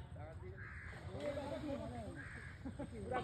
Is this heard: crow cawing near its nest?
yes